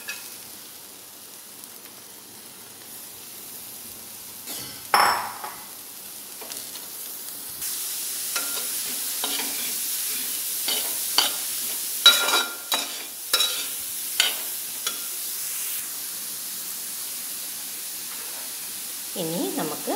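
Onions are stir-fried with chillies in a pan for chilli beef, giving a soft, steady sizzle with intermittent scraping stirs and clinks that grow busier partway through, close by and fairly quiet.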